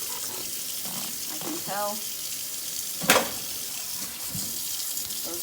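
Water runs in a steady hiss as raw-milk milking equipment fills during a cool wash rinse, close and constant, with someone speaking briefly over it and a sharp clatter midway.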